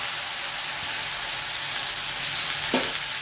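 Garlic and asafoetida hit hot oil for a Gujarati tempering, giving a steady, close hiss of sizzling that holds evenly throughout, with a faint soft knock near the end.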